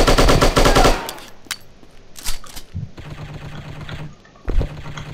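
AK-47 in the shooting game Striker: a rapid, loud automatic burst for the first second, then isolated sharp shots and short clusters of rounds with quieter gaps between.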